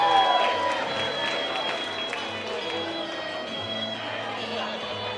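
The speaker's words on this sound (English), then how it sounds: "let's get a nice round of applause right here for your bride and your dad tonight" Applause and crowd noise for a bride and her father at a wedding reception, a steady dense wash of clapping with murmuring voices throughout.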